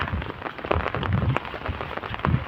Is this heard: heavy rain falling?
yes